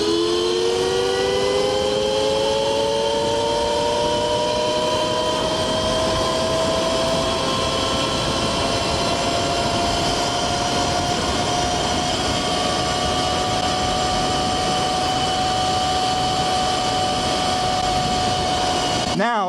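A Qronge X1 Spark L electric motorcycle riding in mode 3 gives a steady, loud electric whine that rises in pitch as it accelerates, over constant wind and road rush.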